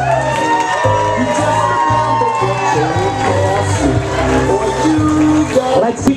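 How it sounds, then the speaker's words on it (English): Wedding guests at the Wachusett Village Inn cheer and whoop loudly in a continuous burst of crowd noise, with shouts and excited voices layered over music throughout. "Let's keep your applause going"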